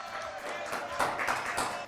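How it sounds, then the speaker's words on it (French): A television studio audience claps for an arriving guest, a dense ripple of applause that swells toward the middle and carries on under a host's voice. "Applaudissements,"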